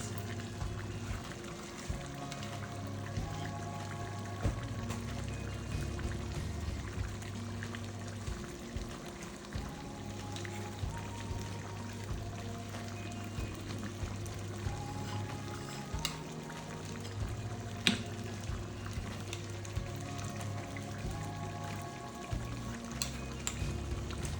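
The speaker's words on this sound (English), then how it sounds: "So just follow me step by step as I'm dropping the egusi inside the pot." Ground egusi seeds drop into a pot and fry, making a continuous close sizzle with light scraping and stirring under a steady low hum, with no voices over it.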